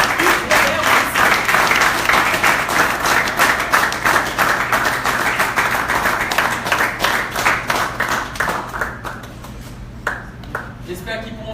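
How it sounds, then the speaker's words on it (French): Audience applause at a photography festival in Haiti, a dense burst of clapping that gradually thins and fades over about ten seconds, with a low steady hum underneath and some voices mixed in. "Je vous demande d'applaudir et d'accueillir Hugues Robert."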